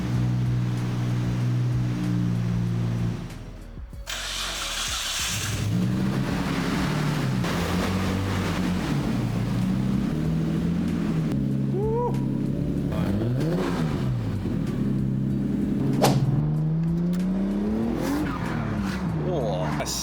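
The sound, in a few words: Nissan Skyline engine running, bigger turbo and full exhaust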